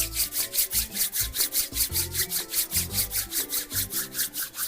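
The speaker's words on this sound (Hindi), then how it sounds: "अपने दोनों हाथों को इस प्रकार से आपस में हथेलियों को आपस में रगड़ें" Two palms rub briskly together in a fast, even back-and-forth rhythm, making soft, close, swishing strokes about four per second, with faint low tones in the background.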